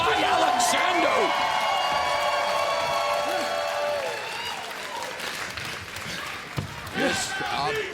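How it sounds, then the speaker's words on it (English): Wrestling crowd at an MLP Forged in Excellence event applauds and chants during Konosuke Takeshita versus Josh Alexander, a loud sustained roar of clapping under a commentator's voice, settling into rhythmic chanting with a sharp slam near the end. "the crowd now chants MLP again"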